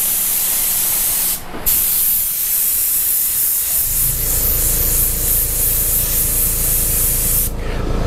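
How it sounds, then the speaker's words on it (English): Spray gun and air compressor hiss steadily in a paint booth during spray painting, a loud continuous broadband rush with a brief pause near the start and a low mechanical hum joining partway through. "the air compressor comes across as a little bit loud, you know, on the camera"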